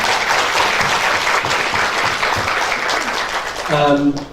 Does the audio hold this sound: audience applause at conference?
yes